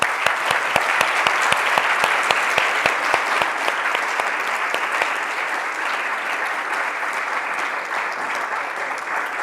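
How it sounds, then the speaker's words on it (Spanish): An audience applauds after a talk on gender-perspective justice, a dense, loud, sustained round of clapping with a few crisp, distinct claps standing out early and an even wash continuing throughout. "Un aplauso."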